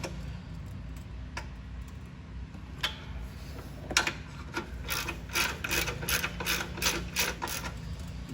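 A hand ratchet with a 13 mm socket tightens engine mount nuts on a Fiat 500 Abarth, giving quiet scattered clicks at first and then a faster run of crisp ratcheting ticks.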